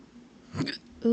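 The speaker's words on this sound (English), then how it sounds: "Ooh, excuse me, that was a hiccup." A single sharp hiccup bursts out mid-clip from a woman playing a puzzle game, a brief loud catch of breath, followed by a short voiced sound at the end.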